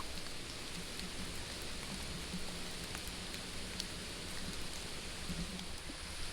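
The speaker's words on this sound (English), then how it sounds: "It's drizzly now, which is not too bad" Steady drizzling rain outdoors on a hillside in Hong Kong, a soft, even hiss of light drops pattering on surfaces, continuous and fairly faint with no voices.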